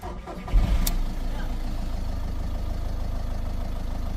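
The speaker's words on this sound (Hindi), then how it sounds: "गाड़ी स्टार्ट हो गई।" A car engine cranks briefly and catches, then settles into a steady low idle that runs on alone, fairly close.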